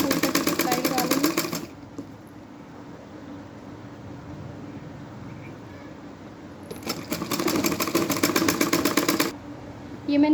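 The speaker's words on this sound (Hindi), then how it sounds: "तो ऐसे ही मैं इसको फुल पट्टी पे सिलाई लगा लूँगी।" Sewing machine stitching along the very edge of a fabric strip for a palazzo waistband belt, running in two loud rapid bursts with a quiet pause between them.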